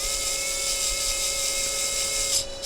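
A small power driver whines steadily at a constant pitch while driving screws into the wheels of an RC 4x4 car build, then cuts off near the end, with no talking.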